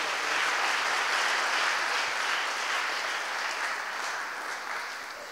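Steady, even applause rises from a church congregation thanking donors during a prayer, a dense wash of many hands clapping without a break and tapering slightly at the end.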